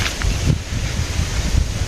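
Cool afternoon wind in a village after rain, a steady rumbling gust buffeting the microphone close by, with faint rustling and no speech.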